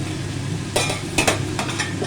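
A metal lid comes off a pot of suji upma with vegetables, giving a couple of close clanks and a brief rattle over a steady cooking hiss.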